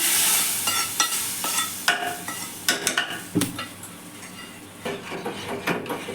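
Hot tadka is poured into dal and stirred, with brief sizzles followed by repeated scraping and clacking of a spoon against the pot, close and uneven in rhythm.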